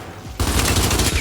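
Gunfire in the video game Gears 5 erupts suddenly after a quieter moment, a loud rapid burst of automatic shots continuing without a break.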